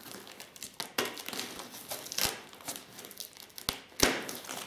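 Plastic and paper packaging around mail-order orchids, sealed with tape, crinkles and tears close up in soft scattered bursts with a few sharp rips, quiet and without talk.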